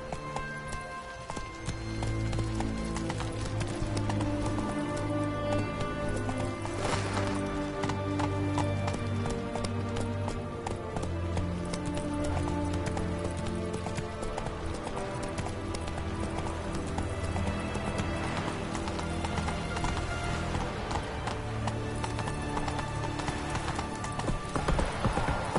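Hoofbeats of Geralt's horse Roach galloping in The Witcher 3, a fast, steady clip-clop rhythm that runs the whole time under loud game music and ambience, with no voices.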